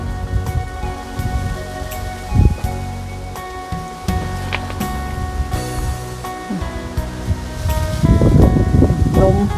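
Strong, dry wind rustles through garden plants in a continuous leafy hiss that swells into louder gusting bursts toward the end.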